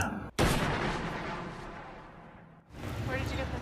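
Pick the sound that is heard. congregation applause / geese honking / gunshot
gunshot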